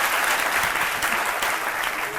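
Audience applause rises in a television studio as a guest takes his seat, a steady wash of clapping with a voice faintly underneath.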